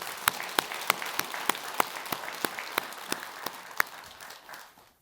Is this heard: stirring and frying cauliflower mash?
no